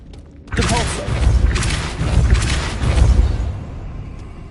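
Depulso force spell cast in Hogwarts Legacy on PS5, a sudden loud whooshing blast followed by rumbling, booming surges that pulse three times before fading.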